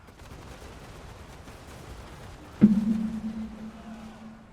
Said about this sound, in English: it's fireworks for the victory